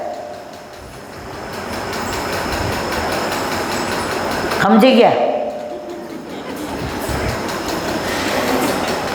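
A passenger train rolls along with a continuous loud rumble and clickety-clack of the wheels, swelling briefly midway, while people talk over it.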